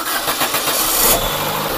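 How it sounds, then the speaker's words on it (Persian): A car engine cranks and catches over a steady loud wash of noise, close by, during air-conditioning refrigerant recharging work, with no talking. "خب حالا مرحله کسی که داخل ماشین نشسته میگیم برامون استارتو بزنه"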